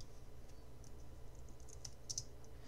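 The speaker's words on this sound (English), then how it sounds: "speed up your uh, typing on the Mac" Typing on a Mac computer keyboard, a steady patter of light, fairly quiet key clicks with a few sharper taps near the end, heard alone without voices.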